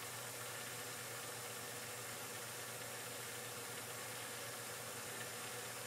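A metal lathe faces off a part in a series of passes. It gives a faint, steady machine hum that holds constant throughout, with no voices.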